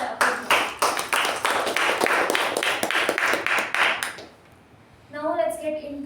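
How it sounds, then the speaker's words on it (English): A room of club members at a Toastmasters meeting claps steadily for their president, a brisk and fairly close round of applause that fades out, followed by a voice speaking. "So let's give a huge round of applause to our president"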